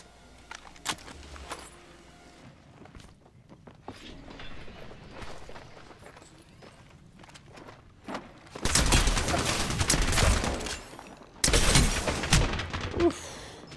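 Gunfire in the Apex Legends video game, with scattered short pops early on, then two dense, loud bursts of sustained firing later in the clip, heard without speech.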